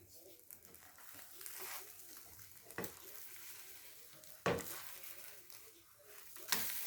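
An egg frying in a hot pan, with a soft steady sizzle broken by a few sharp clattering bursts as the egg is handled and flipped, while a voice talks throughout.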